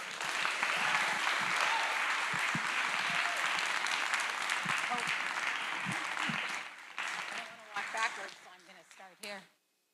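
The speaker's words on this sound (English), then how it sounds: "Give her a round of applause" An audience at a county Title IX panel discussion applauds Michelle Dauber with loud, dense clapping that holds steady for several seconds, then thins into scattered claps and murmuring voices before stopping.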